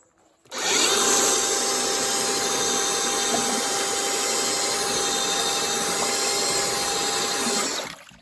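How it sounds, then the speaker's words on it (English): A power drill with a mixer paddle churns paper-enhanced mortar for cordwood masonry, a steady loud whirring grind with a sloshing, scraping undertone that starts abruptly and runs continuously before stopping near the end. "now I can put this mixer in here and start mixing it normally"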